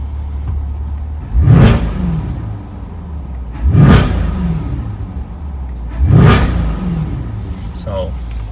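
A 2025 Chevrolet Corvette C8 in track mode, windows down, gives three loud revs spaced about two seconds apart, each one swelling and falling back over a steady idle rumble.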